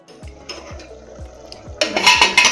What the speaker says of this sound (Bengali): এবার এইভাবে এটাকে একটু নেড়ে দিয়ে ঢাকা দিয়ে দেবো।